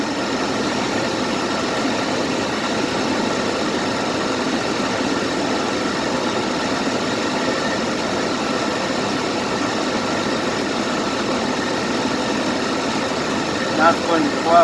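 Jeep CJ engine with a failing alternator idling steadily, a continuous low rumble with constant vibration and no change in pace, close and fairly loud throughout.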